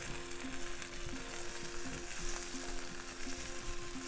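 Goat meat fried rice with turmeric and carrots sizzles steadily in a frying pan, with repeated scraping strokes of a stirring utensil at an even rhythm, close and moderately loud, no talking.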